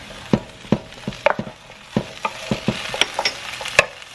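Potatoes fried with peppers, onions, garlic and seasonings in a pan, heard as a steady low sizzle broken by repeated sharp scrapes and clacks of stirring at an irregular rhythm, close and fairly clear, with no talking.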